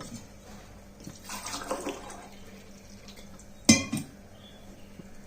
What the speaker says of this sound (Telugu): కొంచెం వాటర్ వేస్తున్నాను